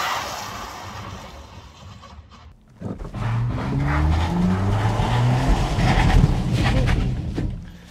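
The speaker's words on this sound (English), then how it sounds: "You can see here the wheels are spinning." A BMW i4 M50 electric car launches hard from a standstill with its wheels spinning, a loud rising whine and tire noise swelling after a quieter start and holding strong for several seconds.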